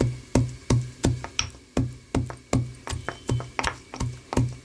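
Garlic and chili pounded into a paste in a mortar for a garlic-chili chicken fry, giving about a dozen close, loud, evenly spaced thuds at a steady beat with no talking.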